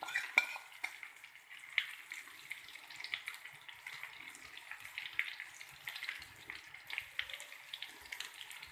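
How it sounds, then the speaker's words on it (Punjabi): Tandoori chicken tikka cooks in a pan as the pieces are turned over, a soft, steady sizzle with scattered crackles and light scraping, fairly quiet and with no talking. "ਹੁਣ ਇਹਨੂੰ ਮੈਂ ਉਲਟ ਪਲਟ ਕਰਕੇ ਤੇ ਇਹਨਾਂ ਨੂੰ ਮੈਂ ਪਕਾ ਲੈਂਦੀ"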